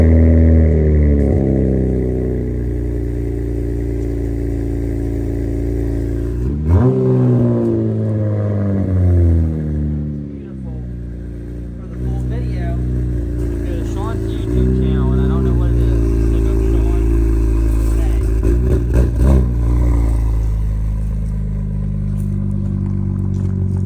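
A Cadillac ATS-V with a ZZP exhaust fires up with a sharp bark, then idles with a deep burble and is revved in rising and falling pulls, loud and close, while voices talk over it.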